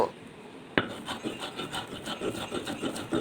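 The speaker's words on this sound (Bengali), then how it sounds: "এখন ধনিয়া পাতা আর পেঁয়াজটা হালকা করে বেটে নেব।" Rough, rhythmic rasping strokes of coriander leaves and onion being ground on a flat grinding stone, a repeated scraping back and forth at close range after a sharp initial knock, fairly quiet.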